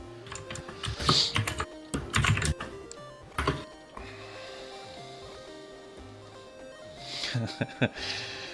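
Loud computer keyboard typing clacks in quick, uneven bursts close to the microphone, under and between stretches of people talking, with a quieter typing-free middle stretch.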